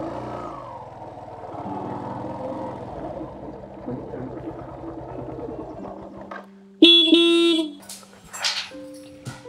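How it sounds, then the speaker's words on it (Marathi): A vehicle horn sounds in a village street in a Marathi short film, a loud, sustained honk bursting in near the end after a quieter stretch of low engine rumble and background noise. "कशाला भोंगा वाजतो रे?"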